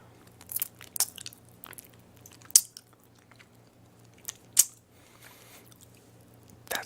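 Pickle and garlic parmesan chips being eaten up close, scattered crisp bites and crunches with softer wet chewing between them, a few sharper crunch peaks standing out against a quiet background.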